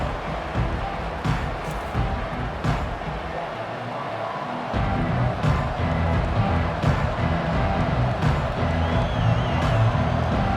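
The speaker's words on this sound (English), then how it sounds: "Listen to this crowd noise." A stadium crowd in a college football video game roars steadily as a broad, continuous wash of cheering. The noise swells louder partway through and stays high, with no talk over it.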